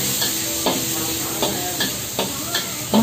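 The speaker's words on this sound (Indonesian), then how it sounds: "kita masukkan bawang putih, tumis beberapa saat hingga harum" Garlic sautéing in a hot pan ahead of chili and ginger for spicy clams, a steady sizzle broken by repeated spatula scrapes and stirring clatters at a brisk, uneven rhythm.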